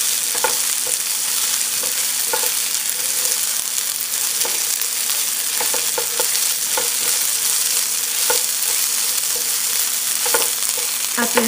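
Anaheim peppers fry in a pan, a steady hiss of hot oil with scattered pops and crackles and occasional stirring clinks, close and continuous with no talk.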